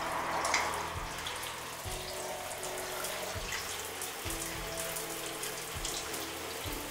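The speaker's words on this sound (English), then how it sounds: "I'm just going to dip my hair in the shower." Shower water runs steadily over hair, a continuous spattering patter with occasional low thuds, close by and with no one talking.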